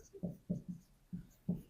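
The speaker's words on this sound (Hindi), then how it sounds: "तो हम लिखेंगे" Pen writing on paper during a graphing math lesson, short rhythmic scratchy strokes in quick bursts with small pauses, close and fairly quiet with no talk.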